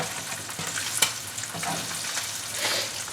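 Food sizzling and frying on a flat top griddle, a steady bright crackle with scattered pops and hisses, close and alone without any talking.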